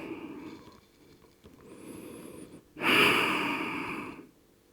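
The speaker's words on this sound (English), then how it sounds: "A few more deep breaths here." Slow, deep breaths during a yoga pose, heard close: a softer inhale and exhale, then a long, loud, airy exhale that fades away at the end, with no talking.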